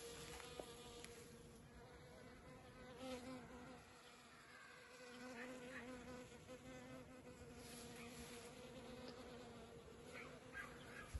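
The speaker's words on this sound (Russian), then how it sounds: "И все равно пчелки на ней работают." Honey bees work a hive frame fitted with plastic foundation in the evening, giving a steady, close, continuous buzz with layered droning tones and no talking.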